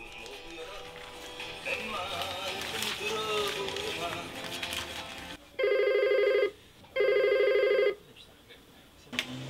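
A telephone taking briquette delivery orders in a home on a rainy day rings twice in loud electronic bursts, after a stretch of talk and background noise.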